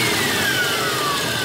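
An SUV engine runs steadily and fairly quietly, a smooth continuous hum with a faint whine, heard alone at close range.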